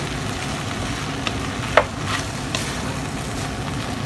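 Vegetables stir-fry in a pan for chow mein, a close, even sizzle with a sharp clack of the utensil near the middle and lighter scraping taps around it.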